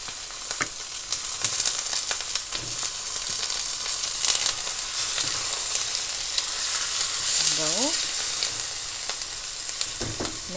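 Chicken sizzles steadily in a hot pan for a Filipino chicken dish with coconut milk and papaya, with a dense continuous frying crackle and a few light clinks of stirring.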